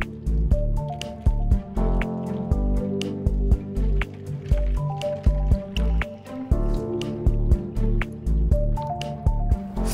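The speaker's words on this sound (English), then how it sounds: "I'm trying to make sure that the water doesn't go on this side, so I'm going to try to pour some water." Water is poured over a small dam of popsicle sticks and mud, giving close, repeated wet squishes and drips in an irregular rhythm.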